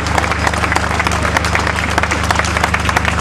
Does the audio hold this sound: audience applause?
yes